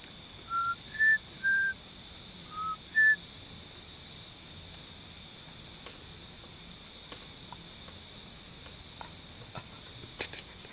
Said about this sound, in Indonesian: Kita bersiul teman-teman di sini ya.